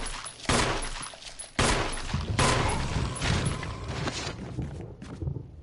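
Gunshots in a Resident Evil game: a few loud, sharp blasts with long reverberant tails in an echoing interior, spaced about a second apart, then fading to quiet.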